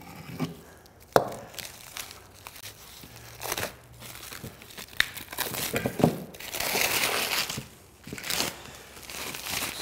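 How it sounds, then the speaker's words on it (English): Plastic film being cut and peeled off freshly laminated wooden boat stems, irregular crinkling, tearing and crackling bursts with quiet gaps, close up. "So I'm gonna cut the plastic off here."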